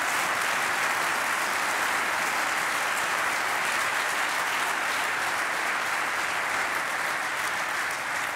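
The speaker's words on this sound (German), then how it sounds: "Riesen Applaus mal an der Stelle für unseren Künstler." A studio audience at a talk show with Wolfgang Niersbach and Günter Netzer gives a big round of applause for the performer, dense and sustained clapping that stays loud and steady for about eight seconds.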